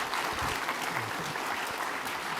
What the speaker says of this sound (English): Please give him the biggest applause.